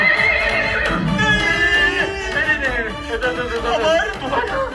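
Horses neigh and whinny repeatedly, the calls rising and falling, mixed with hoof clip-clop and a lively babble of people talking over them throughout.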